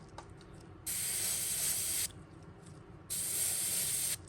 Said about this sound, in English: I'm going to tighten the gun up so it just comes out in a fine line.